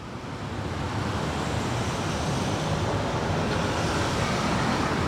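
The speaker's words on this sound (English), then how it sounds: "it was getting a little windy" Wind blows outdoors beside a road, a constant broadband rush that rises within the first second and then holds steady without any speech.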